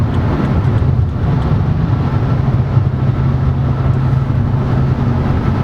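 A car engine pulls hard at full throttle on a back road, a loud, steady droning roar heard from inside the cabin with a low rumble that holds throughout.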